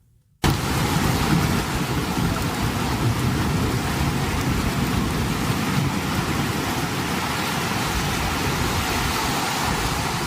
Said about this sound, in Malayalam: തലസ്ഥാനമായ റിയാദിൽ ഇന്നും കനത്ത മഴ തുടരുകയാണ്.